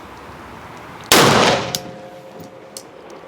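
A single sharp revolver shot cracks out on an outdoor shooting range, close and loud, with a short ringing decay and faint clicks afterward.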